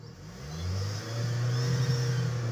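A Ford Territory engine with a check-engine fault and low power revs up from idle to about 3,000 rpm, rising in pitch and holding a steady drone, loud and close with no talking.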